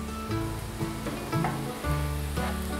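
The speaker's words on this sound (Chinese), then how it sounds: "我把芋头丝煎饼煎好了" A shredded taro pancake pan-fries in a pan until golden, giving a steady soft sizzle and crackle with faint pops throughout, close by and without talk.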